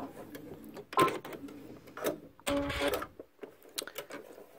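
A sewing machine stitches a backpack's top flap in two brief runs, a soft rapid whir about a second in and a longer burst past the two-and-a-half-second mark, quiet with handling noise between.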